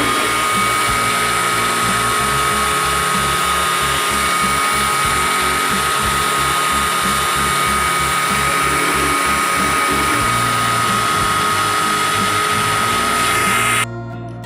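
Small drill boring a finger hole through a coconut shell ring, a loud, steady high-pitched whine with a pulsing low mechanical rumble throughout, cutting off abruptly near the end.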